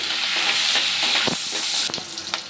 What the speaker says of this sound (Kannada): ಇವಾಗ ನಾನಿಲ್ಲಿ ಹಸಿಮೆಣ್ಸಿನ್ಕಾಯಿ ಹಾಕೋತೀನಿ ಹಾಗೆ ಕರ್ಬೇವಿನ ಸೊಪ್ಪು ಹಾಕೋತೀನಿ